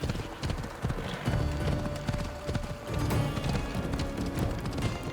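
Horse hooves clip-clop in a quick, rhythmic run in Assassin's Creed Odyssey, the galloping beats close and clear with a few brief snorts, steady across the whole stretch with no talking over it.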